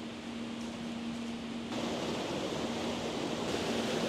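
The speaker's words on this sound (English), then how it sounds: "Yeah, you can hear it. There's a lot of water here today." A river at Kennall Vale in Cornwall runs high after weeks of rain. It makes a steady, full rushing roar that stays close and constant throughout, with no voices.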